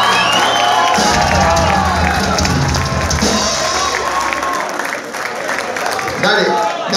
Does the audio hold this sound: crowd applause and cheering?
yes